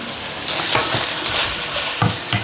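Beef and broccoli with cornstarch slurry and spring onion being stirred in a hot pan, a steady sizzle under a few soft scraping clatters of the spatula, close and fairly loud.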